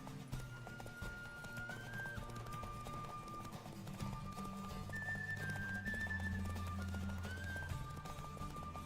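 Steady rhythmic hoofbeats of a galloping horse in The Witcher 3 video game, under tonal music and wind, moderately faint and continuous.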